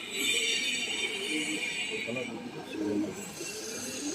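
Female pigeons kept for sale cooing in a loft, soft low coos scattered through a few seconds under a bright background hiss, with someone talking over them.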